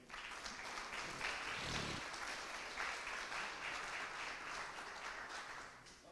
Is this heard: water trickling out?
no